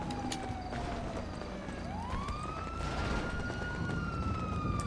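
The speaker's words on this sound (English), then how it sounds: "I hear sirens." A police siren in a video game wails with rising and falling pitch, fairly distant, over steady background noise.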